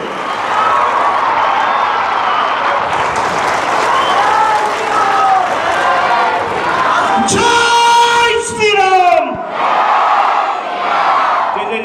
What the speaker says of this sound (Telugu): గట్టిగా అయిపోయి చప్పట్లు కొట్టండి